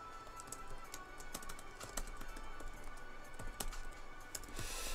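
Quiet computer keyboard typing, with irregular bursts of soft key taps scattered over a low background hum, close but faint, with no talk.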